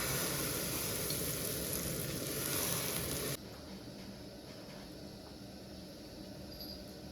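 Batter for patishapta pitha fries in a hot oiled nonstick pan, giving a steady close crackling sizzle that softens partway through and carries on more quietly.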